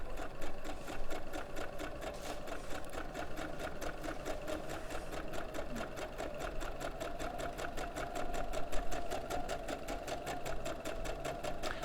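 A domestic sewing machine runs steadily for about twelve seconds, stitching a quick stay stitch while sewing a jacket or frock, its fast even whir and rhythmic needle clatter close and continuous with no talk over it.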